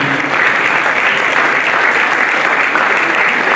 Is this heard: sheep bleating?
no